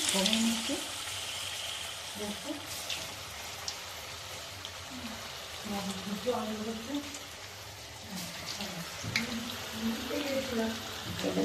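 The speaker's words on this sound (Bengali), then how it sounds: "সবগুলোকে ভাজছি" Crumb-coated beetroot chops fry in oil, a continuous soft sizzle like light rain running throughout, with a voice speaking intermittently over it.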